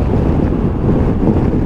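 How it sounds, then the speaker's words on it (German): Strong wind buffets the microphone in a steady low roar during a ride on a 2021 Piaggio Beverly 400 S scooter, with a rushing, gusty texture throughout and no voices. "Es ist auf jeden Fall sehr windig."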